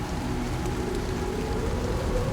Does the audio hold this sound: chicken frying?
no